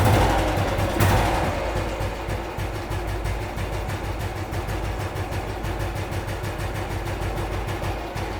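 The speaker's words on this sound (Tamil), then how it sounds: "ஸோ இன்ஜின் நல்லா இருக்கு. சைலன்சரில் மட்டும் ஹோல்டு இருக்கிறனால அந்த சவுண்டு கொஞ்சம் கேட்குது" A vintage Royal Enfield motorcycle engine idles with a steady, loud thumping beat, its silencer holed and leaking exhaust noise, with a brief louder burst near the start and no talk.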